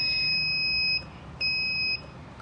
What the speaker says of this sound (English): Let me ring the doorbell.